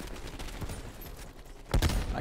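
Gunfire in the video game Prop Hunt, a muffled rattle of shots followed by a louder, sharper burst near the end.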